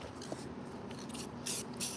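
Short hissing bursts from an aerosol spray can used for crafting in a shop, two or three quick puffs, close and fairly quiet.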